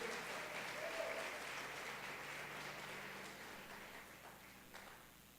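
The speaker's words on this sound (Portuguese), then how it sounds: "Pode aplaudir ao Senhor." A church congregation applauds during a sermon, steady dense clapping that fills the space evenly and slowly fades toward the end, heard from a moderate distance with faint tones beneath.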